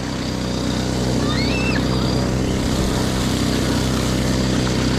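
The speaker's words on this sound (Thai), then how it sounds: "จะขอเร่งเครื่องสักหน่อย" A boat engine drones loud and close through deep water, holding a steady throbbing hum with water noise around it.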